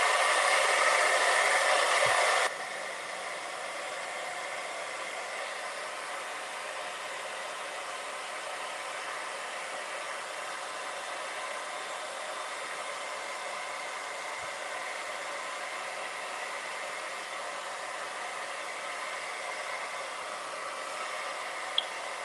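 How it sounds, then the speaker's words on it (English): Hair dryer blow-drying freshly painted truck tires on a craft piece: a steady, even whooshing roar that is louder for the first two seconds, then holds at a lower constant level, with no talk. "I'm going to blow dry my tires while I paint the other."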